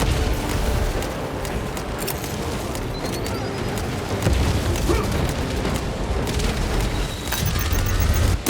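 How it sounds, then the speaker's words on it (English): In the Warhammer 40,000 Space Marine 2 video game, a shock grenade goes off amid heavy combat, with deep booming bursts and crackling impacts over a continuous roar of battle noise. "A moment, brothers. Deploying shock grenade."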